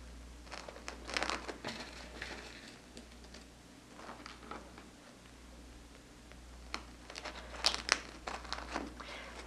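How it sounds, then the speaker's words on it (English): Fabric corners are folded down and pinned for a no-sew quilted Christmas ornament, giving faint crinkling and small ticking handling sounds at close range, scattered irregularly with brief louder bursts. "Gonna pin the corners. Fold down, pin."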